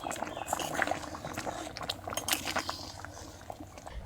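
Mung dal bubbles and simmers in a pot, with soft irregular bubbling, small liquid pops and occasional light clinks of utensils, quiet and close.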